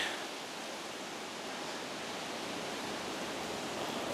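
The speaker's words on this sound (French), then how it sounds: "Pas mal de vent aujourd'hui." Steady broadband rushing noise of strong wind blowing outdoors in a garden, constant and fairly loud throughout with no voices.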